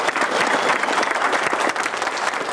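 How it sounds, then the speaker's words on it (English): A crowd from the community of Pine House, Saskatchewan, claps together in sustained, dense applause at an event, loud and even throughout. "let's give a round of applause to the community of Pine House"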